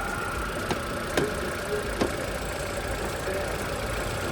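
A 2010 Mitsubishi ASX crossover with a 1.8 petrol engine and automatic gearbox idles with a loose alternator pulley, giving a steady, loud close-up hum broken by a few sharp ticks.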